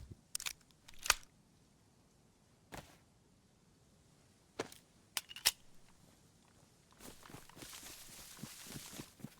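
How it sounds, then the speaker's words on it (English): Sparse, crisp metallic clicks and snaps of a bullet being pressed into a Mark II magazine in DayZ, spaced irregularly and close, followed by a busier rustle of handling near the end. "Let's go ahead and put our one extra bullet into here."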